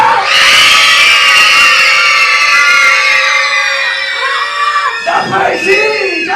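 Children in a Sunday school class shout together in one loud, sustained cheer like the shout at the walls of Jericho, holding for about four seconds before breaking into ragged yells.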